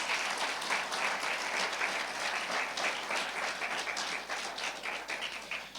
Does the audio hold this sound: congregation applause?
yes